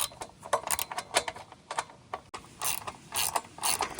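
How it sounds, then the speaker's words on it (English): A 13mm socket and ratchet clicks in quick, uneven bursts of pawl ticks while tightening a bolt on a hitch-mounted 3-bike e-bike carrier rack, close and fairly quiet. "I got my nice 13mm socket and ratchet. Secure it."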